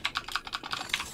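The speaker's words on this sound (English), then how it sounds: "switching keyboard now" Rapid clicking of computer keyboard keys during a gaming session, about a dozen crisp, evenly spaced keystrokes, close and clear with no talk.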